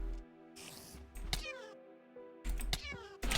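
A cat meows in a video game, giving several drawn-out, wavering cries separated by short pauses, clear and close with no talk over them.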